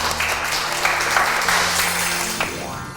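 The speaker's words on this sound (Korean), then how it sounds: "우리 함께 해주신 우리 김상균 교수님께 다시 한번 감사의 박수 부탁드리겠습니다" An indoor audience at a lecture applauds a cognitive scientist. The clapping is dense and sustained at close range, with a few louder claps on top before it starts to fade near the end.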